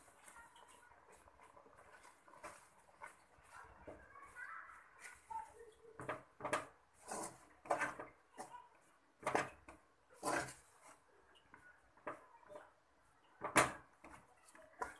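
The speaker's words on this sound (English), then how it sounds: "mix it with spatula" Rice flour dough is stirred with a spatula in a pan on the stove, giving soft scraping and irregular tapping knocks that grow louder and more frequent toward the end.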